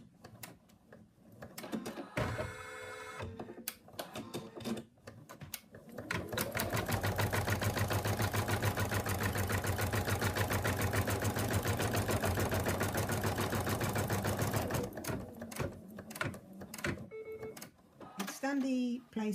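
An embroidery machine stitches a fabric placement line, a fast steady needle clatter running for several seconds in the middle, with brief mechanical bursts and handling noise before and after it.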